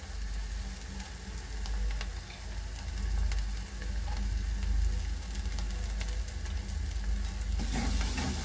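Fenugreek and spices fry in oil with Kashmiri chilli and salt, giving a continuous close crackling sizzle with occasional light ticks and stirring scrapes, a little brighter near the end.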